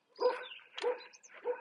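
Dogs barking from a neighbouring backyard, three short separate bark bursts spaced about half a second apart, clear and moderately near with no talk.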